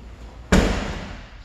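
A jump round kick slams into a kick bag: one sharp, loud, close thud that decays quickly, with no voices.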